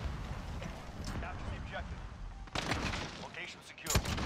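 Gunfire in a Modern Warfare shooter: sharp shots and bursts crack over continuous game noise, with a heavier blast near the end, while a player talks throughout.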